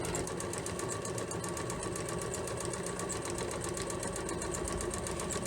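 A sewing machine stitches a fabric face mask at a steady, even pace, its rapid rhythmic needle chatter continuous and fairly quiet throughout, with no pauses.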